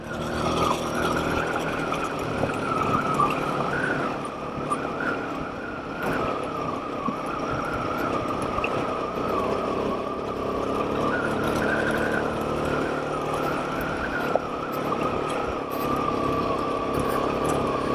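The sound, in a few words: Royal Enfield Himalayan 452 motorcycle riding up mountain pass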